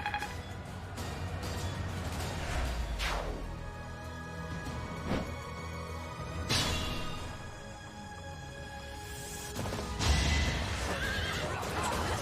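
A horse in the video game Fire Emblem Three Houses whinnies in several loud, shrill neighs, mixed with hoof clip-clops and battle effects against a steady game soundscape.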